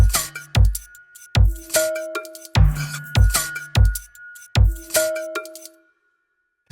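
A drum beat built from sampled kitchen pot sounds, with a pitched-down pot thud as the kick, knocks, brush swishes and a ringing lid, loops in a steady pattern of sharp hits with metallic rings before stopping.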